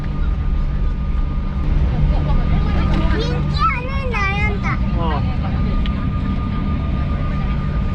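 A steady, low airplane engine drone fills the cabin as the plane prepares for takeoff on a flight to Jeju, with a child and an adult talking over it.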